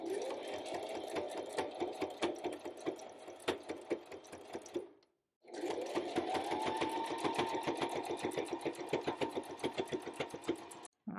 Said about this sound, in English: And now we can go ahead and sew it.